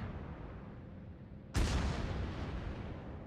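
Torpedo hit in the World of Warships naval video game: a sudden heavy explosive boom breaks over a low engine rumble, then trails off in a long rumbling decay.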